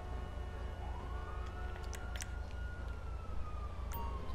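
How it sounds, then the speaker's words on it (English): A distant ambulance siren in the video game GTA 5 wails faintly over a low engine drone, sweeping in one long pitch rise and holding steady, with short chirps breaking in. "I don't know why the ambulance is just stopped up there."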